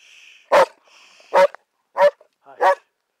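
Four loud, close dog barks spaced about a second apart, each short and sharp, at a cool, cloudy night campsite with quiet background in between.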